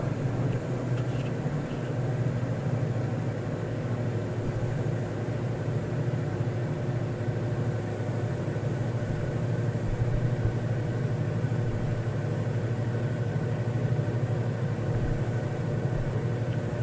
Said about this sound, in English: I think the engine changed sound.